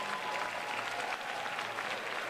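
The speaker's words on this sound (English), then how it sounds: "Give yourselves a big round of applause." Seniors at a Senior Day celebration clap together, a soft, even wash of applause heard from a distance and at low level throughout the short moment.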